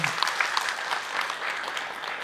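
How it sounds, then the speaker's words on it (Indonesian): Dense applause from a religious lecture audience, steady and fairly close, with many overlapping claps running throughout. "Boleh tepuk tangan dong buat Ahilman ya, buat kita semua."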